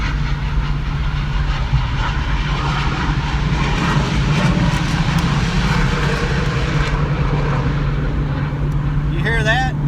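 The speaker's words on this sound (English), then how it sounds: "And that was an F-18 Super Hornet." An F-18 Super Hornet fighter jet flies over near a naval air station and is heard from inside a moving vehicle. It makes a loud, broad roar layered over steady road and engine rumble throughout.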